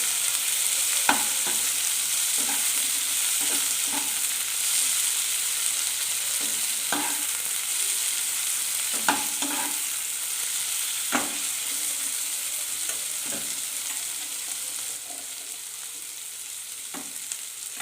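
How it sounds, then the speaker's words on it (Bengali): Chopped tomato is stirred into onion and chilli frying in a pan for ghugni made with goat fat: a constant close sizzle with intermittent scraping knocks of a spatula every second or two. "এবার এখানে দিয়ে দেব টমেটো কুচিটা। টমেটো কুচিটা দিয়ে একটু নাড়াচাড়া করে নেব।"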